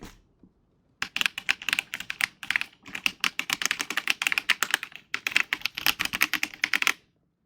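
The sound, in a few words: mechanical keyboard keys clicking, spacebar thunking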